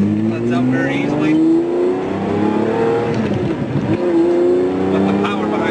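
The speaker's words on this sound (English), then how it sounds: "Starting off from a stop, obviously this car's got pretty long legs, but a very smooth clutch." A Lamborghini Murcielago engine revs up from a stop, pitch rising smoothly through a gear change, loud and close, with someone talking over it.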